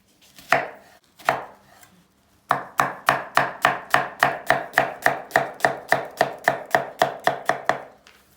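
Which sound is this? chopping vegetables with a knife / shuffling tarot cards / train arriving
chopping vegetables with a knife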